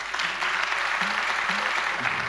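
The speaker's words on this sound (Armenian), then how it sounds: "Ծափահարեք։" A studio audience claps at a live comedy club show, producing dense, steady applause that fills the whole stretch at close range.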